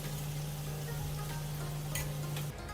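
Peas and a little carrot go into frying upma vegetables in a pan, giving a soft, even sizzle with light stirring scrapes over a steady low hum that cuts off near the end.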